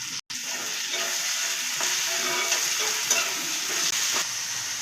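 Tomatoes with rock salt sautéing in a pan for a vatha kuzhambu, giving a steady close hiss of frying with faint stirring ticks and a brief dropout near the start, with no one speaking.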